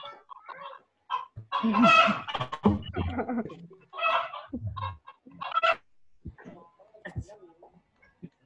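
Hens clucking in a chicken coop, repeated bursts of fowl calls over several seconds, partly mixed with nearby voices speaking.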